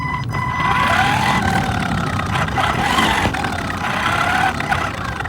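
An Arrma Gorgon RC car running on a stock nickel metal hydride battery at full throttle, a steady loud whine with constant rushing road noise that holds close and even throughout.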